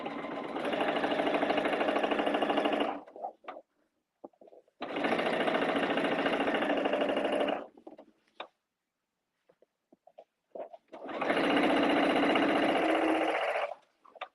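A sewing machine stitching a quilt seam runs in three long steady whirring bursts of about three seconds each, separated by quiet pauses with small handling clicks, close and clear.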